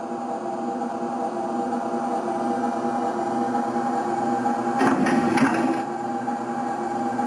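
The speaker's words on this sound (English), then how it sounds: "That is the sound of the air compressor running." Air compressor on a Reading 2100 model steam locomotive runs as a steady, close mechanical hum with a faint pulsing beat, briefly louder with a short burst of hissing clatter near the end.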